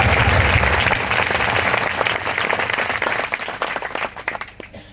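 A church congregation claps together in a dense, lively burst of applause that gradually thins into scattered, uneven claps.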